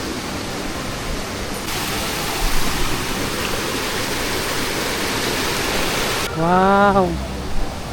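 Strong, steady rush of water pouring from a dam fills the scene as a dense broadband roar, with a brief exclamation from a voice near the end.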